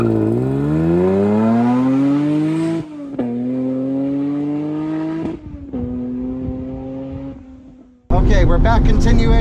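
A classic Mini with a 500hp engine accelerates hard past an outside observer, its engine note climbing sharply through several gears with brief breaks at each shift. It is loud, then fades into the distance before an abrupt burst of noise close by.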